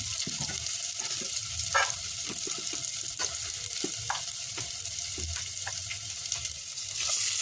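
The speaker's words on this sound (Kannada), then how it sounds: "ಹಾಗೆ ಈರುಳ್ಳಿ ಮತ್ತು ಹಸಿಮೆಣಸಿನಕಾಯಿಯನ್ನು ಫ್ರೈ ಮಾಡ್ಕೋಬೇಕು" Chopped onions and green chilies fry in a pan with a continuous sizzle, punctuated by scattered scraping and stirring clicks from a utensil, close and fairly loud throughout.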